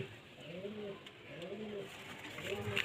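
Pigeons cooing softly in repeated rolling calls, near but faint, over a quiet background.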